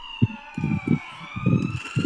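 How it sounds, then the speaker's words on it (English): An ambulance siren wails steadily, its rising tone sustained throughout, while muffled bursts of low rumble and knocking come and go beneath it, as if heard from inside the vehicle. "I'm in the back of an ambulance right now."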